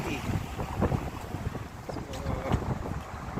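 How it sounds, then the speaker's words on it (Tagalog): Strong wind blows outdoors in a city street in bad, rainy-looking weather, a rough, gusty rumble buffeting the microphone steadily for a few seconds. "medyo masama yung panahon, lakas yung hangin"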